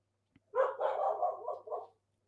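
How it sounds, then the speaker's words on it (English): Dogs bark below an office window, a short run of several muffled barks and yips heard at a distance, fairly faint, with no talk over them. "Don't mind the dogs."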